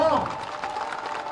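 Crowd applause at an election nomination rally in Shivpuri, a steady wash of many clapping hands heard at moderate distance, continuous and even throughout with no voice standing out.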